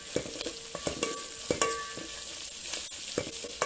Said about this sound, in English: just remove the lid and keep turning it using your cooking stick